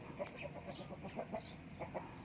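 A Burmese fighting rooster clucking softly in a series of short, evenly spaced calls, faint and somewhat distant over low background noise.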